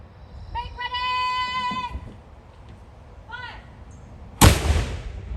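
A historic black-powder artillery piece fires once with a sharp, loud boom and a rolling tail, after a shouted command and a drawn-out voice calling earlier in the clip.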